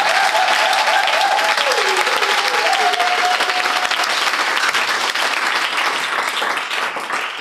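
Sustained, loud clapping from a congregation gathered for a community worship service, a thick steady roar of hands with a faint voice early on that tapers slightly toward the end.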